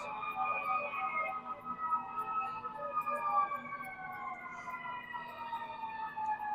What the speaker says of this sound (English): you can probably hear sirens in the background, in addition to the music